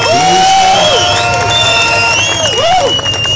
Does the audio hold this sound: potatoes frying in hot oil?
no